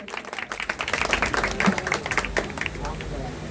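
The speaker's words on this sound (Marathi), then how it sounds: "एकदा जोरदार टाळ्या झाल्या पाहिजे तनिषासाठी" An audience applauds a young girl after her confident Shivgarjana recitation at a Shiv Jayanti cultural program, steady clapping from a crowd filling the hall, close and fairly loud throughout.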